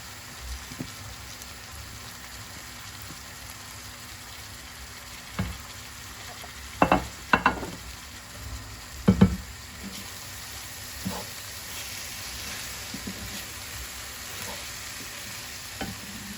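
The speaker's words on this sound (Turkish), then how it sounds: "Bunu böyle 2-3 dakika böyle kavuracağım." Bulgur and vermicelli toasting in a pan for mujaddara pilaf, a soft steady sizzle with a few louder scraping stirs of a spoon against the pan around the middle, no talking.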